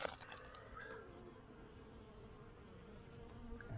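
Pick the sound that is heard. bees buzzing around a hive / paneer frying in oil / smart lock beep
bees buzzing around a hive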